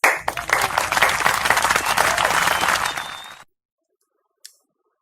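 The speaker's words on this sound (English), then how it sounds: "So let's give us a big round of applause." Dense round of applause from graduates at a 2020 class graduation ceremony, steady and close for about three seconds before cutting off abruptly, followed by a single faint tap.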